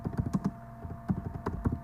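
Quick bursts of typing on a computer keyboard, crisp close key taps in two short runs separated by a brief pause, alone with no voice.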